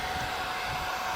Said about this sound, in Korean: 헤어 드라이기가 이렇게 지금 맹렬하게 돌아가고 있는데요.